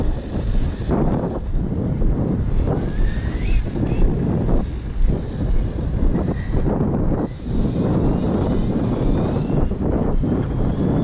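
A Kyosho Inferno GT2 VE Race Spec RC car with Mercedes-AMG GT3 body makes a speed test run outdoors, its electric motor whining continuously and rising and falling as it passes, under steady wind noise.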